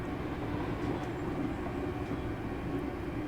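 A Class 385 ScotRail electric train in Train Sim Classic runs steadily, its low continuous rumble and hum droning evenly with faint high whine, alone without voices.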